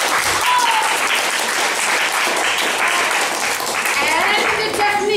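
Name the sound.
audience applause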